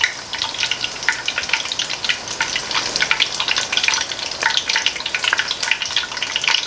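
Four lobster corndogs deep fry in hot oil, a continuous crackling sizzle with dense popping bubbles that stays loud and close throughout, no voices heard.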